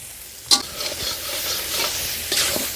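Mutton chusta being stirred in a pan with water, green chilli and garam masala: a spoon scrapes and clanks against the pan a few times over a soft background sizzle.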